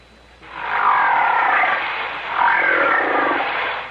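A whale call sounds as one long, loud, rough roaring groan that swells, dips briefly, then rises again, heard alone and close with no talk.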